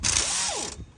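An air-powered ratchet wrench breaks a bolt loose on a 2017 Nissan Sentra engine. It gives one loud, brief burst of buzzing impact chatter with a falling pitch sweep, then stops abruptly.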